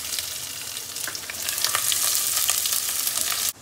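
Onions sizzle and crackle steadily in hot oil alongside dried red chillies, the frying loud and close throughout, with a few sharper pops before it cuts off abruptly near the end.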